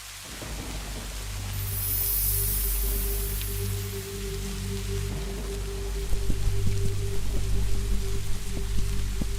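Steady rain falls outdoors as a dense, continuous hiss, with a low rumble beneath it and heavier patter toward the end.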